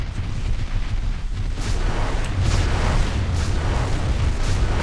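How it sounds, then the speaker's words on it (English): Loud, continuous rumbling blasts of a lava cannon in a video game, with a roaring, wind-like texture, booming steadily with no pauses and no voices. "Oh my god, lava cannon."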